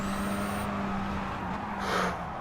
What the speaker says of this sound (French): Ouh, ça freine bien là.